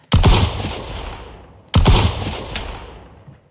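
Two loud gunshots from a Minecraft weapons mod fire about a second and a half apart, each a sharp blast with a decaying echo tail, plus a faint click near the end.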